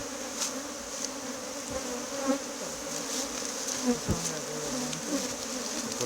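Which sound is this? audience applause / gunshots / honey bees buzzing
honey bees buzzing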